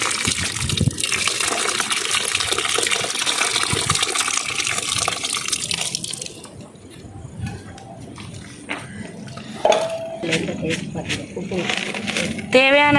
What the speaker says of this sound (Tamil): இப்போ ரெடி பண்ணி வச்ச கரைச்ச புளி தண்ணியும் சேர்த்துக்கலாம் கொஞ்சமா.